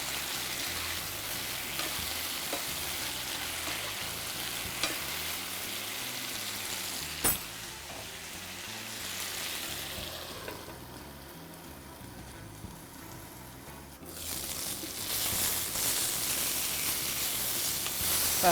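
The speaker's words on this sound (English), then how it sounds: "It's been about 5 minutes that the brinjal, the Kathrikai, has been cooking" Brinjal (Kathrikai) pieces cooking in a pan over low heat for a South Indian podi curry, a soft continuous sizzle and hiss, faint and steady, briefly quieter midway before picking up again.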